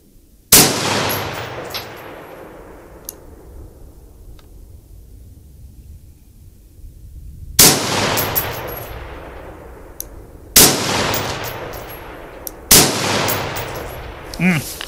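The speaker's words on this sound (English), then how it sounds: "Rounds going everywhere" Rifle shots ring out outdoors while zeroing a scope camera, four loud cracks with long reverberating tails, spaced several seconds apart, close and dominant.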